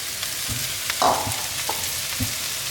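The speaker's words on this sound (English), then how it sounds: "now I'm going to put this tasso ham in there" Tasso ham and bacon hitting a hot frying pan, sizzling steadily up close with a few stirring scrapes and clinks, no voices.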